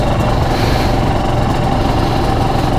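A cold Aprilia RS250 two-stroke 250cc motorcycle engine idles while warming up, giving a steady, loud, close, continuous rasping drone with no voices.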